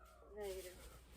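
A house cat gives a brief, drawn-out meow over a noisy indoor background, faint and a little distant, lasting about a second.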